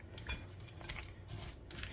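Chopped broccoli salad with cheese, eggs, bacon, water chestnuts and green onions being stirred in a bowl, giving soft, faint clinks and scrapes of a utensil, close and quiet with no talk.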